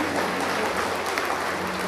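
Steady applause from an audience at a state medal award ceremony, dense and continuous crowd clapping throughout with no voices standing out.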